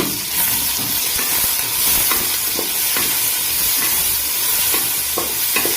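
Chopped shallots sizzle steadily while frying in a pan with green chillies for a Kerala-style chicken curry, with a spoon stirring and scraping at intervals over the continuous hiss, close and fairly loud, no voices.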